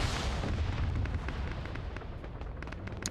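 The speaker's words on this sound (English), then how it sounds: "An airstrike come in" Airstrike explosions in a military video game, a dense continuous roar of blasts and rumbling detonations with sharp crackling bursts scattered throughout, loud and sustained with no pauses.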